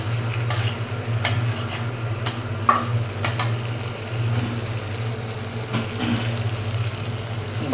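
Eggs fry in a pan at home with a steady close sizzle, a low continuous hum underneath and occasional sharp clicks and pops of fat or a utensil scraping.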